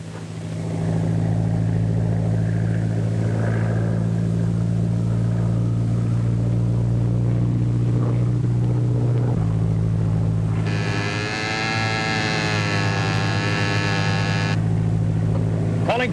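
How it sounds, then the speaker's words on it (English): A small plane with a smoke attachment in flight in a 1939 film: a loud, steady, buzzing engine drone with a strong low hum that shifts slightly midway and a brief higher whine near the end. "Just spotted kid's plane with smoke attachment"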